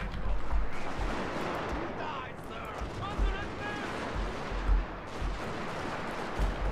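Dense gunfire and artillery rumble fill a Total War: Shogun 2 Fall of the Samurai battle, with repeated booms and crackling volleys under game sounds and voices.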